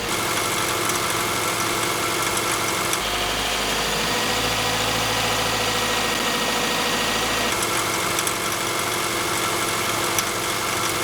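Car engine held at a steady 1500–1600 rpm during a test for pinging on premium gasoline, a continuous droning run with a deeper, heavier tone through the middle stretch, no voices.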